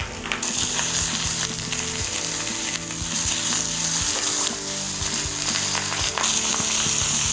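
Snapper fillet frying skin side down in a hot pan, a loud, dense crackling sizzle close up with rapid popping spatters and a few clicks, steady throughout and no speech.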